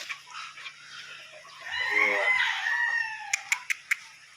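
Roosters from Sual, Pangasinan, shown on a farm: one crows a long, clear cock-a-doodle-doo at mid-range, followed by a few sharp clicking knocks, with faint fowl sounds in the background and no talk.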